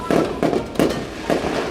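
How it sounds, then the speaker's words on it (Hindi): Pop-pop firecrackers burst in four sharp, close snaps spaced evenly about half a second apart, each loud and brief. "पॉप पॉप पटाखे, ये देख ऐसे फोड़ते हैं इसे।"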